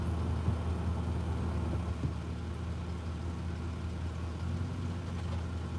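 A pickup truck's engine idles low and steady while it is eased into a parking space, a constant rumble heard from inside the cab with no talking.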